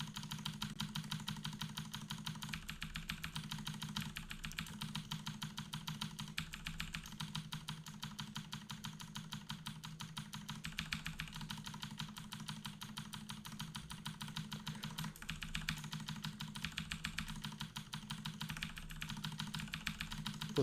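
Steady keyboard typing clatters under a low, constant hum for the whole stretch, keys struck in quick, even runs at moderate distance with no voices.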